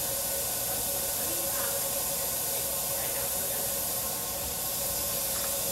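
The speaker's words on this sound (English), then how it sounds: "Just a light stream of air. Make sure it's dry." A light stream of compressed air dries a surface during orthodontic indirect bonding, giving a soft, steady hiss that runs throughout and ends with a tiny click.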